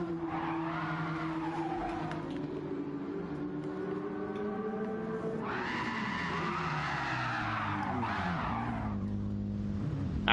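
A race car in Gran Turismo 7 at Deep Forest Raceway slides sideways, tires squealing in long wavering howls over a droning engine, with a second sharp screech rising midway, loud and close.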